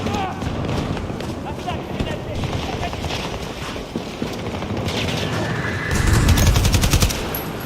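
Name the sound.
gunfire in the video game Battlefield 2042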